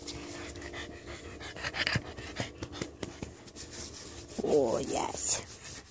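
A dog chews and gnaws on a stuffed toy up close, giving rubbing, rasping sounds with short panting breaths and a louder burst of chewing near the end.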